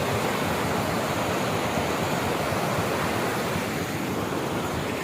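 A river rushing around a vehicle stopped midstream in a Chhattisgarh village, producing a loud, constant broadband roar of flowing water with no breaks or voices.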